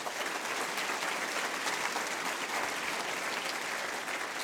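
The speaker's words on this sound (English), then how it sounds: "we should all give them a round of applause" Sustained audience applause after an Angular team panel, a thick, even roar of many hands clapping at steady loudness throughout.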